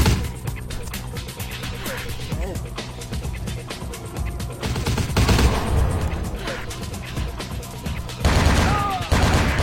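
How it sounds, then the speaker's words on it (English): Gunfire in Vampire The Masquerade Bloodlines, dense bursts of rapid shots and machine-gun rattle with heavier blasts near the middle and end, over steady game noise, with a voice talking throughout. "They're shooting their friend."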